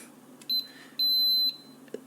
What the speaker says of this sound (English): Beep starts again. So now if we go back in, you can see beeping. It'll start beeping again.